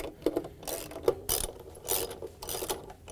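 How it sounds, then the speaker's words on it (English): A 10mm socket ratchet tightens bolts on a Samsung washer tub during a rear tub seal repair, giving quick clicking bursts in an uneven rhythm, close and fairly quiet. "we can use our 10mm socket to go around and put the rest of the bolts in."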